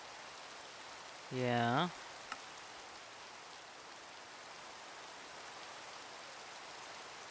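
Steady soft rain falls in Minecraft as a continuous faint wash of noise, with one short spoken word near the start.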